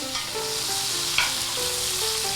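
A steak frying in butter on a hot griddle, cooked teriyaki style, gives a steady close sizzle throughout, with a few soft scrapes as the meat is moved around in the fat.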